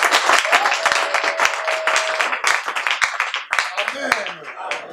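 Congregation clapping and applauding at a French-language church service, a dense, steady wash of many hands with cheering voices mixed in throughout.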